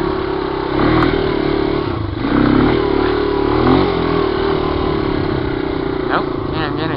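A Yamaha 200E motorcycle labours on a steep mountain climb, engine droning and revving in surges as the rear wheel spins for traction, close and loud throughout.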